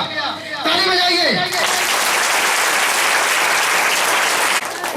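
A church congregation at a Sunday prayer service bursts into sustained applause that fills several seconds, following a voice and tapering off near the end.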